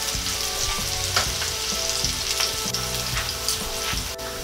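Potato pieces frying in hot oil for tuna kaldereta, a steady close crackling sizzle with small popping bursts throughout.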